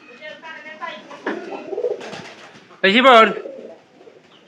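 Pigeons coo repeatedly in their loft, a soft throaty burbling that comes and goes near at hand while someone talks over and between the calls.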